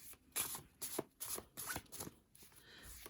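A tarot deck is shuffled by hand, close up, in several quick riffling bursts about half a second apart, with brief pauses between them.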